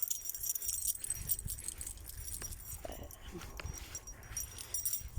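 A dog whimpers and yips faintly while being walked outdoors, with jangling keys or leash metal and footsteps around it; the whines come in short, soft bursts rather than barks.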